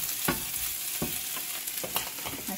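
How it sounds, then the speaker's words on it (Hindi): Chopped onions fry in a pan for an egg curry, making a steady bright sizzle while a spoon stirs and scrapes through them in a few distinct strokes, close and loud, with no talking. "और इधर हम अपने अनियन भी फ्राई करते रहेंगे"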